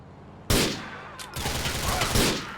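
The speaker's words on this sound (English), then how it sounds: "we can basically take out all these guys with the sniper rifle if we want to" Sniper rifle fire in Grand Theft Auto IV: a loud close shot cracks out, then a short gap, and more sharp reports follow with a rumbling tail, with no talking over them.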